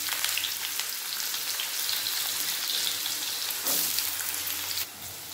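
Diced potatoes frying in hot mustard oil with fried garlic, whole cumin and dried chillies give a loud, dense, steady sizzle like heavy rain, which drops suddenly just before the end.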